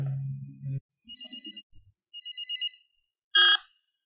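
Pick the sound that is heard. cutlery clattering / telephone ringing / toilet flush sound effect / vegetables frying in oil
telephone ringing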